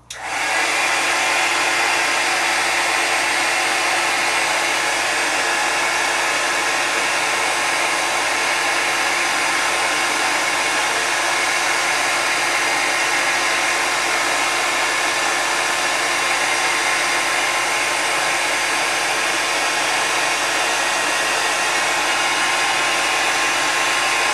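A steady, loud blowing whir of a heat gun clear-embossing cut shapes runs continuously without pause, a constant airy roar with a faint motor hum underneath.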